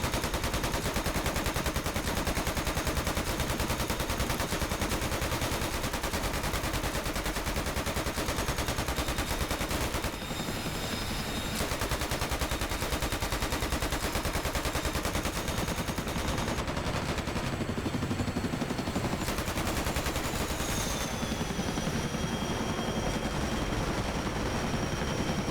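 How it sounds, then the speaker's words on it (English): In the DCS World video game, door gunners on both sides of a CH-47F Chinook helicopter fire machine guns in long continuous bursts, loud and rapid over the steady helicopter drone, with brief pauses between bursts. "we can see both left and right hand gunners opening up on the targets"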